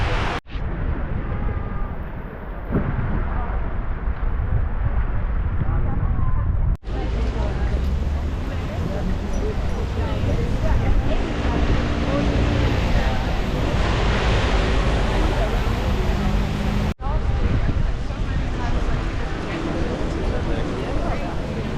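Strong wind in Amsterdam roars and buffets the microphone in continuous gusts, with a voice speaking over it.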